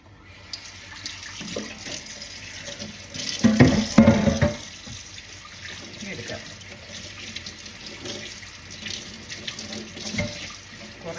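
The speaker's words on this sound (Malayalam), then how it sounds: "ഞാൻ മീൻ കഴുകണത് നിങ്ങൾക്ക് കാണിച്ച് വേണമെങ്കിൽ തരാം" Running tap water splashes steadily into a sink while fish is washed under it, with a louder burst of splashing and handling partway through, fairly close.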